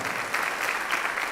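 A church congregation claps during a sermon, producing a short burst of dense, steady applause from many hands.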